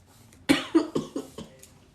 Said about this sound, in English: That cough be getting me.